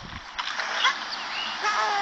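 A splash in Super Mario 64 DS as a character jumps into the waterfall, a short watery burst followed by rushing, bubbling water with small chirpy tones, lasting about two seconds.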